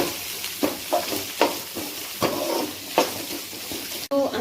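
Chopped ginger and garlic fry in a hot pan for fried rice with carrots and beans, a steady sizzle broken by regular stirring scrapes about every half second, close and fairly quiet, with no talking.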